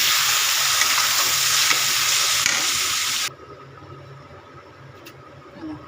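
Sweet spice mixture soaked in water poured into hot ghee, bursting into a loud, dense sizzle that cuts off abruptly after about three seconds, leaving a faint low simmer.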